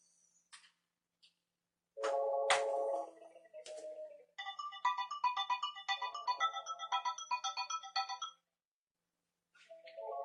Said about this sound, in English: That call has now left this phone and is ringing another extension.